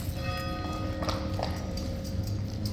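Horse hooves clip-clopping on a central London street during a march, a few crisp close strikes over a steady background of crowd and traffic rumble.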